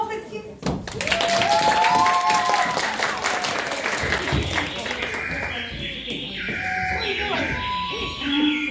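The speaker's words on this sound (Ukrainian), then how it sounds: "Оплески!" A concert audience at a teen club's showcase performance breaks into loud, sustained applause that swells quickly and holds steady, with cheering voices and music mixed in.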